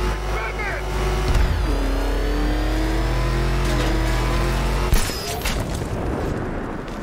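A car in Batman: Arkham Knight drives hard during a chase, its engine droning loud and steady with rising revs. It ends in a sudden heavy impact and rattling clatter.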